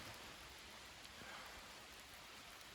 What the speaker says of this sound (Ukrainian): Знову пустився дощ, доволі сильний.